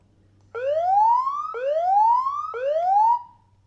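A Zooz ZSE50 alarm siren wails loudly nearby in three rising whoops, each sweeping upward for about a second before restarting, with a low electrical hum faintly underneath and no talking.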